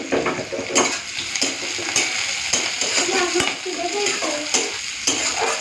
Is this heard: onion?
yes